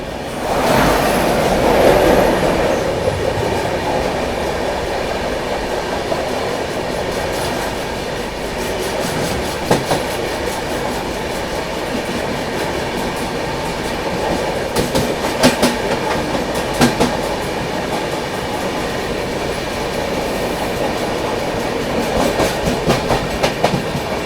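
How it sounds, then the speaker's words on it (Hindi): The Hazur Sahib Nanded–Amritsar Sachkhand Express rolls past steadily and loudly, wheels clacking in regular beats over rail joints, with a constant roar of wagons and faint squeal throughout. "सामने की ओर से आ रही है हुजूर साहिब नांदेड़ अमृतसर सचखंड एक्सप्रेस"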